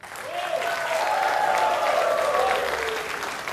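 A studio audience claps together on a Hindi courtroom-style TV interview show in Mumbai, a steady, full round of applause swelling in and tapering off, with a voice rising briefly over it.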